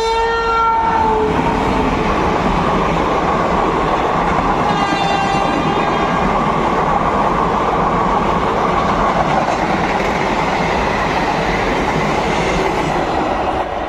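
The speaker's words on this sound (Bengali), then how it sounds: "Lalgola Sealdah passenger train Jiaganj station ছেড়ে আসছে এখন এই মুহূর্তে" A Lalgola–Sealdah passenger train sounds a short horn blast, then roars past Nashipur Road railway station steadily with a continuous rumbling, rattling rail noise.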